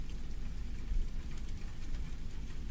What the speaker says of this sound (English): sending soft scatterings of raindrops against the window